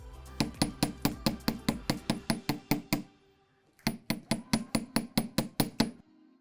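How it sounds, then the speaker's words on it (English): A chasing hammer taps a jewelry wire hoop on a hard block in quick, steady metallic strikes, about a dozen in a row, then a short pause and another even run of ringing blows. "now I've kind of hammered it a little bit, hardened the wire just a bit"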